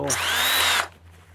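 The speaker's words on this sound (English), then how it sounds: "My old drill." A loud electric drill, used for sharpening flail mower blades, whirs close up for under a second, then cuts off, leaving a quiet room hum.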